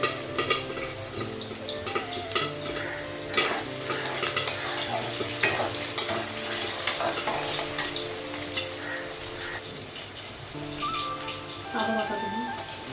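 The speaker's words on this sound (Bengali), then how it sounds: "ফুটছে।" A Bengali fish curry boils in a pan, giving a close, constant bubbling and sizzling with scattered clicks and stirring scrapes, under faint steady background tones.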